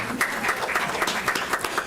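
A room of people at a legislative delegation meeting breaks into applause, a brief burst of many hands clapping at moderate volume, with no voices over it.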